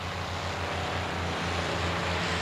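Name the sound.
P-51 Mustang fighter plane engine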